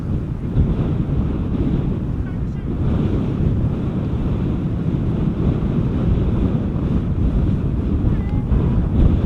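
Strong crosswind at Amsterdam Schiphol Airport buffeting an outdoor microphone, a loud, steady low roar and rumble that carries on without a break throughout.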